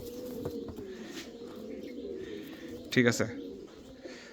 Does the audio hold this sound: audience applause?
no